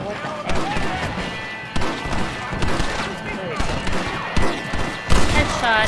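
Rapid gunfire in the video game Red Dead Redemption, a fusillade of sharp shots arriving in bursts over a game soundtrack, with people talking over the action.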